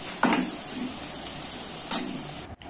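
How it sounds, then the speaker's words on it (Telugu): Onions, green chillies and a half tablespoon of turmeric sizzle in a pan for masala pasta, with a steady frying hiss and two brief scraping stirs of a spoon against the pan. "ఇప్పుడు హాఫ్ టేబుల్ స్పూన్ పసుపు యాడ్ చేసుకొని కలుపుకోవాలి"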